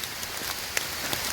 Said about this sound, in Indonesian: Gunung Salak. Hujan guys.